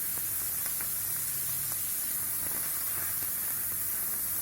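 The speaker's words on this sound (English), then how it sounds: "Heat some desi ghee in a pan. Add in the chopped onions." Chopped onions sizzling in hot desi ghee in a pan, a steady broad hiss and crackle that continues evenly throughout, close and alone.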